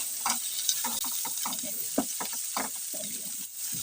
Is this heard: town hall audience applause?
no